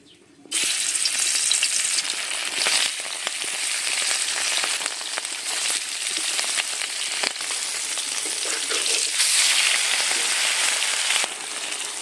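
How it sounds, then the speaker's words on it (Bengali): Steady, loud sizzling of hilsa fish frying in hot oil, a dense crackling hiss that starts abruptly and continues without pause. "তেল গরম হয়ে গেছে এবারে মাছগুলো একে একে দিয়ে দেবো"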